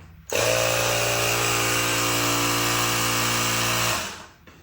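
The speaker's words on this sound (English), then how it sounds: "I have a little handheld air device here. You can put just a little bit of air, lock it down." A small handheld electric air pump inflates a dirt bike tire tube, making a loud, steady motor drone for about three and a half seconds before it winds down.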